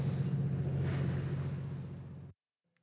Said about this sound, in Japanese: 波は結構あるんですけど